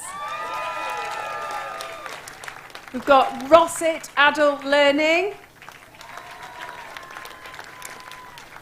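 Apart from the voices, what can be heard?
audience applause at awards ceremony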